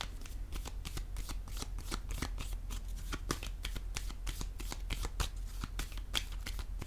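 Tarot cards shuffled in a steady run of quick riffling flicks, loud and close, with no voice over them.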